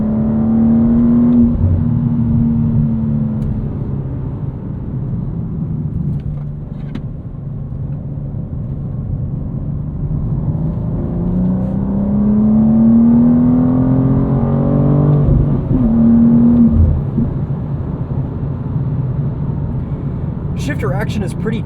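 A 2025 BMW M2 with a 473 hp engine and six-speed manual rumbles and rises in revs from inside the cabin, with quick automatic rev-matching blips during shifts, under steady talking.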